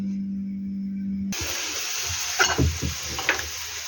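Batter-coated purslane sizzles and crackles in a hot pan, a steady frying hiss with a few louder pops and spatters.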